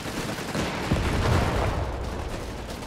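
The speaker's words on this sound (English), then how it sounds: "Scouts advancing only to be met with heavy machine gun fire there." Heavy machine gun fire in the Company of Heroes 3 strategy game, a dense continuous burst of rattling gunshots and battle noise at steady loudness, with no speech.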